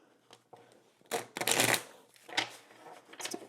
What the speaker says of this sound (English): Just a quick shuffle here.